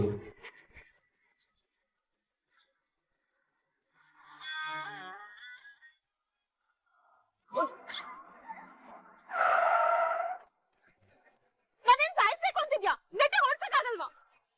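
A car braking hard at a speed hump gives a short, harsh skid burst midway, set among brief bursts of people talking with quiet gaps between.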